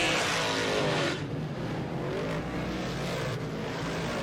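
NASCAR weekly series stock cars racing at Le RPM Speedway, engines roaring loudly at high revs as cars sweep past, the sound shifting and fading slightly as they move through the turns.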